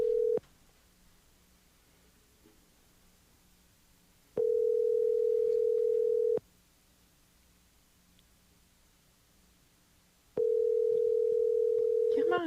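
A telephone call to a guest sounds a steady repeating ring tone, three long even bursts separated by pauses of silence, with faint studio background between them.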